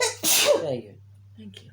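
A single loud, close sneeze from a person with a cold bursts out, followed by quieter talk.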